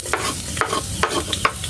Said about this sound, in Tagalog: Init na po ako ng mantika, tsaka yung bawang po, ilagay na po natin